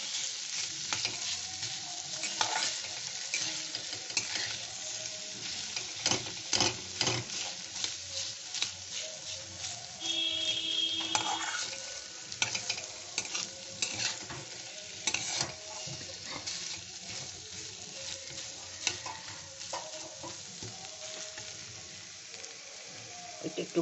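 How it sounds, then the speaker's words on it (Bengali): Potatoes sautéing in a pan, a continuous close sizzle and crackle of oil with frequent scraping stirs of a spatula throughout. "আলুটা দিয়েও একটু কষে নেব"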